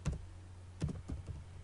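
Typing code on a computer keyboard: a few short clusters of soft, close key clicks with quiet pauses between bursts.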